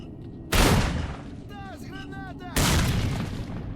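Two heavy grenade blasts in S.T.A.L.K.E.R.: Shadow of Chernobyl, each a sudden loud boom that rolls off slowly, about two seconds apart, with a brief chirping sound between them.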